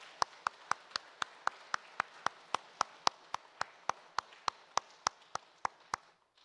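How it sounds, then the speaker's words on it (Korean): Church congregation at a Sunday service clapping in unison to welcome newly appointed deacons and an elder, about two dozen sharp, evenly spaced claps in a steady rhythm, then stopping. "우리 박수로 환영하고 격려하도록 하겠습니다"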